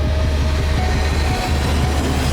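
A Dadar passenger train runs along the tracks with a loud, continuous close-up rumble and a rolling rhythmic clatter of wheels, with no voices.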